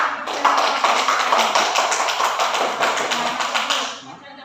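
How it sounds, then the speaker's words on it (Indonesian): Audience applause in an Indonesian classroom or training session on positive school culture, a dense crowd of clapping hands rising quickly, holding steady for about three and a half seconds, then fading out. "Ya, kasih tepuk tangan"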